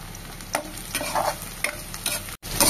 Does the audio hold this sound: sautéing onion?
yes